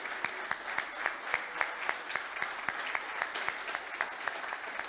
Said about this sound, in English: Can we give moms a round of applause?